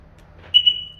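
A Bentley Bentayga 2021 fitted with a Pandora Elite V2 alarm gives a single short, high electronic chirp as the alarm arms, clear and close over a quiet background.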